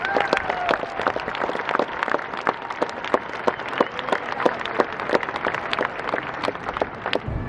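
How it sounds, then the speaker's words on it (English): Graduation audience applauding staff and faculty of a business school, a moderate round of scattered individual claps heard from some distance, steady throughout. "Please join me in giving a round of applause for the staff and faculty"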